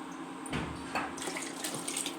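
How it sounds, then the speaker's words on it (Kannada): Water pours and splashes steadily into a pot of rice, fairly close and moderately loud, with a few brighter splashy bursts. "ಅದರ 2ರಷ್ಟು ನೀರು ಹಾಕ್ತಾಯಿದ್ದೀನಿ"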